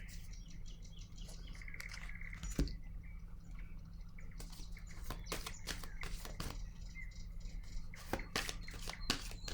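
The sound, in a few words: laying down and handling tarot cards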